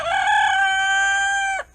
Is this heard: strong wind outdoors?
no